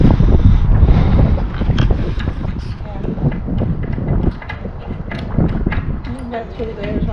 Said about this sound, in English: It's a windy spot, this is.